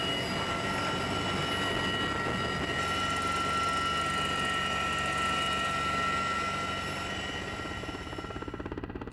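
Helicopter carrying a sling-loaded fabric fuel blivet, a steady loud rotor and turbine drone with whining tones, holding constant before slowly fading at the end.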